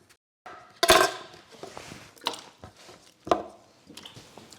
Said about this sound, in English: now I'm going to cut the potatoes in fairly uniform pieces